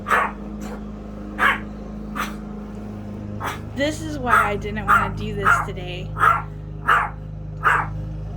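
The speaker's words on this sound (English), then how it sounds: "The dog's barking." A dog barks repeatedly at a steady pace, sharp mid-distance barks with a brief whining growl in between, while a person talks over it.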